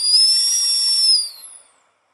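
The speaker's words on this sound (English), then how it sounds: "And the tea kettle whistled" A tea kettle whistles with a steady, piercing high tone that holds for about a second, then fades quickly into silence.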